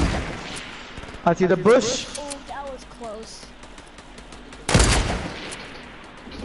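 Gunfire in the video game Fortnite: a quick burst of rapid shots, then a single loud, heavy blast a few seconds later, with players talking over the action.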